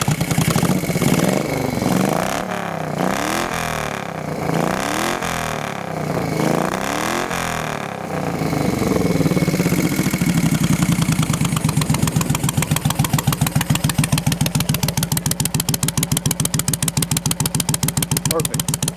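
An old solid-mounted Moto Guzzi chopper engine with no counterbalancer settles from revving into a steady, loud, rapid idle, its pulses thumping evenly and close.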